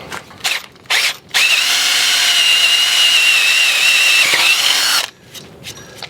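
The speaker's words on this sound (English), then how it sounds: "Let's have a shot at drilling through and then speed boring through the drilled hole" A couple of short whirring bursts from a power drill, then one sustained loud run drilling through a boat rubbing strip for several seconds before it stops.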